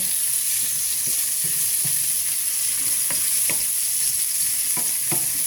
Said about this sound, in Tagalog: tapos halo-haloin natin